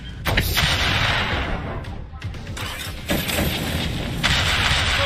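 Hand cannon shots in the Atlas Reactor video game, loud booming blasts over dense game sound, with a sharp hit near the start and further heavy impacts, while a voice talks through much of it.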